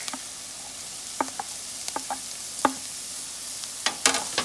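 Garlic sizzling in a soup pot, a steady hiss broken by sharp, widely spaced clicks and taps of a spoon stirring against the pot.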